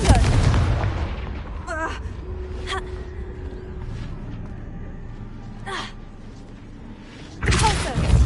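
Confringo explosion spells in Hogwarts Legacy go off as several sharp, gunfire-like blasts spaced a second or more apart, with a heavier burst near the end, over low rumble and brief gasping voice sounds.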